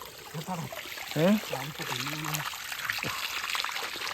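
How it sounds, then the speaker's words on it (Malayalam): Small stream flowing near Ponmudi, a soft steady trickle and gurgle of water heard at moderate distance beneath a person talking. "നമ്മൾ ചെറിയൊരു അരുവിയുടെ സൈഡിലേക്ക് വന്നിരിക്കുകയാണ്"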